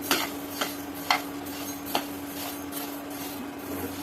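Spices for homemade garam masala dry-roasting in a pan over low heat, stirred with a utensil: a few sharp scrapes and clinks at uneven intervals over a steady low background, with no talking.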